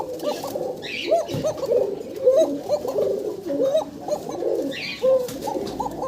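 Lotan pigeons, a breeding pair with eggs, coo continuously and loudly up close in overlapping rolling calls, with a few faint higher chirps behind them.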